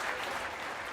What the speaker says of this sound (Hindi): तालियां देख.